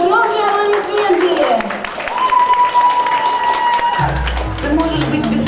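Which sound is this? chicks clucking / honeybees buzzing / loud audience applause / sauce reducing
loud audience applause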